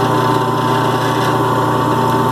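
A CABKING 8-inch lapidary machine grinds stone against a fresh 80 grit wheel, giving a steady, loud motor whine with a continuous abrasive hum that holds unchanged throughout, with no voices.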